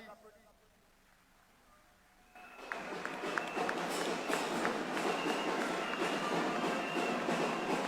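A crowd applauds speakers from a recent press briefing at a gathering of PDCI ministers. A sudden, loud, dense burst of clapping starts partway in and holds steady to the end.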